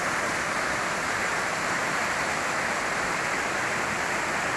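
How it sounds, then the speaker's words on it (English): Swollen winter river churning through a big set of white water rapids near a sluice gate, a steady, loud, broadband roar of rushing water that holds constant throughout with no voices. "there's a nice big set of white water rapids over there"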